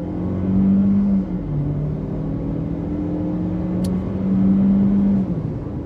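Inside a 2019 Jeep Renegade Trailhawk accelerating to about 55 mph, a steady engine drone with gear-change shifts in pitch under road rumble, heard from the cabin without speech.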